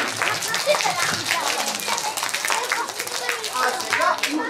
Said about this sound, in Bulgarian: Пляскаме За любимите учители!